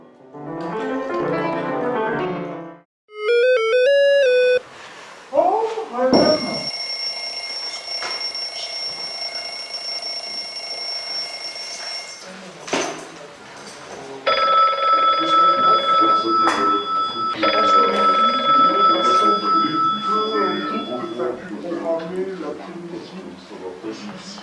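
A telephone rings in two long stretches of steady electronic trilling, at moderate volume, with people talking over and between the rings.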